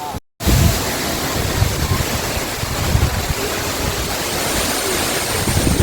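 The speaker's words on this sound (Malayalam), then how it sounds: "ഇവിടുത്തെ വെള്ളം ഭയങ്കര ശക്തിയിലാണ് ഒഴുകുന്നത്" Loud, continuous roar of a powerful waterfall, dense and unbroken after a brief cut at the start.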